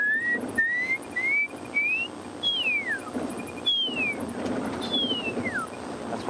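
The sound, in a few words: whistled imitation of pearl-spotted owl call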